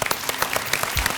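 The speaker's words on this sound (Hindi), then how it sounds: "तालियां" Studio audience on a Hindi television game show applauding, a brief burst of close, crisp clapping with fast irregular hand strikes.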